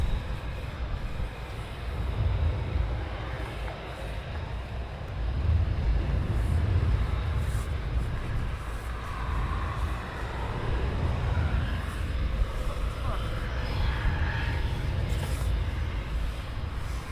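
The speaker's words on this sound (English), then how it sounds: "So the next Typhoons are now taxiing out" Eurofighter Typhoon jets taxi out at RAF Coningsby during a NATO exercise, giving a steady, broad engine roar and whine that swells and eases over the clip, heard from some distance.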